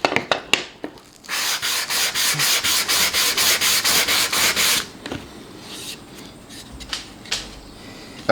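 A small dent in wood is sanded by hand with 220-grit sandpaper, making a run of quick, rhythmic rasping strokes close up. A few scattered taps and rubs come before and after.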